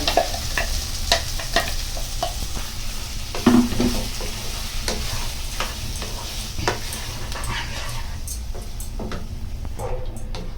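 Freshly ground masala is stirred into fried paneer in a kadai, with a steady sizzle under frequent scraping and clicking strokes from a spoon against the pan.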